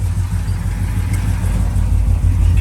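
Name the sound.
1972 Chevrolet Chevelle 454 engine running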